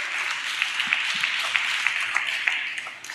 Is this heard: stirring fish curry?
no